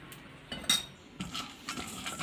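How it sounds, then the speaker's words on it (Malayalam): A spoon scrapes and clinks against a bowl as crushed pepper, turmeric and salt are mixed into a marinade for Kerala-style fish molee, giving a few sharp metallic taps among softer stirring scrapes. "ഇത് നന്നായിട്ട് നമുക്കൊന്ന് മിക്സ് ചെയ്തെടുക്കാം"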